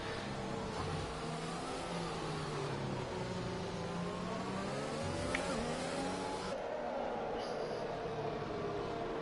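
F1 race cars race in Mexico in the F1 2021 video game, with a continuous high engine whine rising and falling as cars run together, faint throughout, with commentary.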